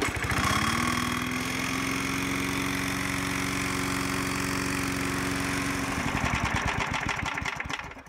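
A Briggs and Stratton Artisan 22-inch push mower engine catches and runs loudly and steadily up close, its droning hum holding even before shifting to a rougher, chugging beat near the end.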